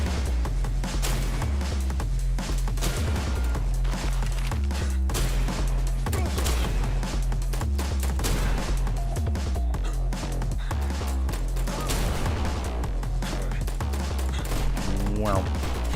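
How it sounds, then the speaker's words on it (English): Shotgun fire in Final Fantasy 14, a dense stream of repeated booming shots and bursts layered over constant game sound with speech mixed in. "Shotguns."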